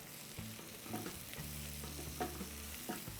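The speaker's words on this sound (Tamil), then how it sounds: "நெய்யும் வெங்காயம் வதங்கும் போது ஒரு ஸ்மெல்லு வரும் பாருங்கள்" Onions sautéing in ghee for mushroom dum biryani, a spoon stirring and scraping the pot in soft, irregular strokes over a quiet, low sizzle, fairly faint overall.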